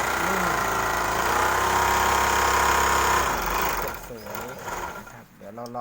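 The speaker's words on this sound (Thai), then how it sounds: "เดี๋ยวเรามาเริ่มเย็บกันเลยนะฮะ" An old Flying Horse sewing machine stitching, a loud, steady mechanical whir close up for about three seconds before it slows and stops, leaving quieter handling noise.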